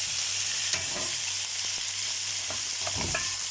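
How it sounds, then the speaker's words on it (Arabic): Chicken sizzles as it is sautéed in a pan, a dense, close frying hiss with a few brief scrapes and stirring clicks scattered through the short stretch, no talk. "بس قلت دلوقتي لازم تشوفوا معايا وانا بشوحها دلوقتي"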